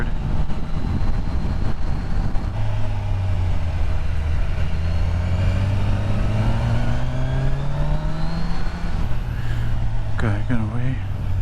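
A 2024 Kawasaki Ninja 1000SX engine drones under heavy wind rush as the rider downshifts without the clutch, its pitch stepping and rising steadily. A rider talks over it.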